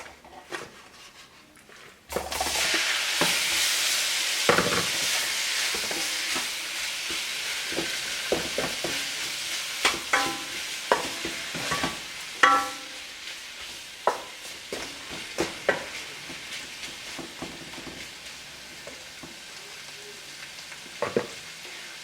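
Shrimp dropped into a hot fajita pan burst into a loud sizzle after a quiet opening, then keep hissing steadily while a utensil scrapes and taps the pan at uneven intervals; nobody speaks.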